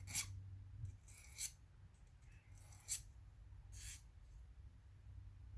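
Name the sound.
hand file removing a burr on engine part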